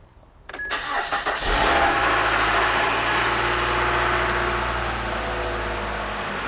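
A 2001 Nissan Altima engine cranks and catches, settling quickly into a steady, smooth idle with a faint belt whine riding over the low rumble, close and fairly loud with no talking.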